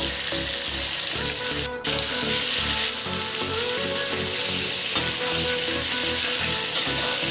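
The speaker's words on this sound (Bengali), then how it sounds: "এবারে মাছ ভাজার তেলের মধ্যেই আমি পটলগুলো ভেজে নেব।" Pointed gourd slices fry in oil left over from frying fish, giving a loud, steady sizzle that runs the whole time with one brief dip near the start and no voices.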